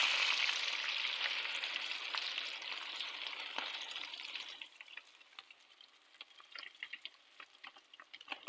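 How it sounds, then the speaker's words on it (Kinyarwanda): A fish fillet coated in egg and salt frying in a pan, a steady close sizzle that is loud at first and then thins into scattered crackles and pops. "Amafi yacu akaba arahiye hano."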